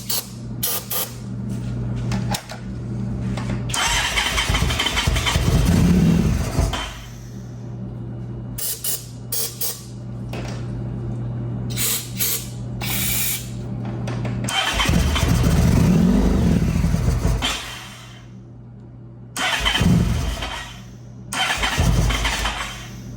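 An abandoned motorcycle is cranked over repeatedly with starting fluid sprayed into the intake boots, its starter whirring in long bursts separated by pauses, loud and close, without the engine catching.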